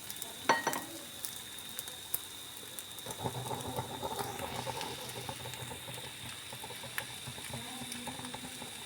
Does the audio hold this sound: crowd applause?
no